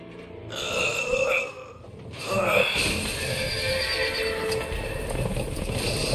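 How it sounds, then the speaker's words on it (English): Horses in the video game A Way Out give loud, close whinnies, two drawn-out neighs in the first few seconds, followed by a continuous rumble of galloping hooves and snorting, with some talk mixed in. "Let's just hope these horses keep running"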